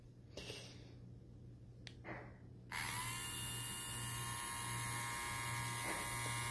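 A Razoo rechargeable electric dog nail grinder with a diamond-tipped wheel, its cover off, switches on after a few quiet clicks and taps. It then buzzes with a steady, close, high-pitched motor whir to the end.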